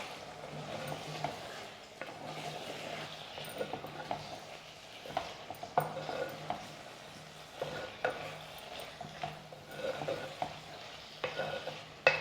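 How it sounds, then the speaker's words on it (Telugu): Flat beans and eggplant curry being stirred in a pan, with steady scraping and sizzling and irregular spoon clinks, fairly close and alone with no talk. "చిక్కుడుకాయలు కూడా వేసి బాగా కలుపుకోవాలన్నమాట."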